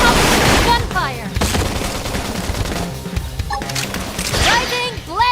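Gunfire and blasts from combat in the video game Xenoblade Chronicles X: Definitive Edition on Switch, loud and dense bursts with game music and effects, while a player talks excitedly over it.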